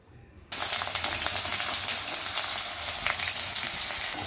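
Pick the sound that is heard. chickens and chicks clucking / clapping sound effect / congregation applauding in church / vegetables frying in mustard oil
vegetables frying in mustard oil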